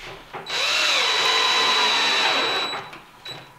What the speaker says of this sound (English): don't go hogging these screws in